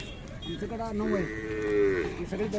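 A single long, drawn-out moo from Khillar cattle at the Umadi fair cattle sale, close and clear, rising and sustained for over a second before trailing off.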